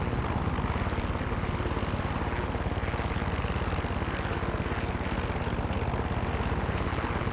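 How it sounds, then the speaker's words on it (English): A helicopter in the Far Cry 6 video game drones steadily and loudly, its rotor chop and engine roar holding constant throughout with no talk. "Oh, the chopper's already here."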